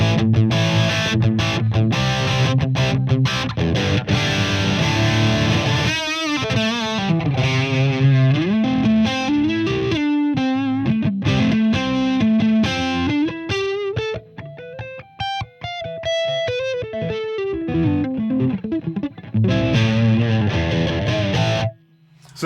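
Distorted electric guitar played through channel 2 of an Engl Retro Tube 100 tube amp with the gain turned down a fair bit, loud and close, with chugging palm-muted chords and sustained melodic bends.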